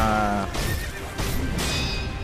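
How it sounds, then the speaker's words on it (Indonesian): A horse in the video game Sekiro rears and gives a loud, close whinny that breaks into shrill bursts, with heavy thuds and game action noise sounding under it. "Jadi kuda jingkrak kamu ya."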